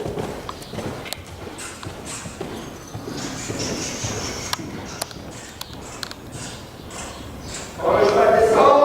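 A horse gallops and jumps, its hooves thudding in uneven clip-clop beats with scattered sharp knocks, before a louder rushing noise swells in at the end.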